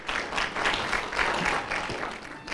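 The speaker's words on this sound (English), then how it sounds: "A round of applause." Audience applause at a community coffee meeting with the mayor, a short burst of steady clapping from a modest crowd, fairly distant and without talk.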